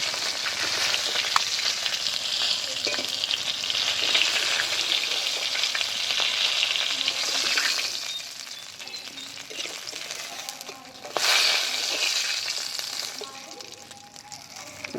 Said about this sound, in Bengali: দেখো মুড়োগুলো আমার লাল লাল ভাজা হয়ে গেছে, এখন আমি তুলে নেব।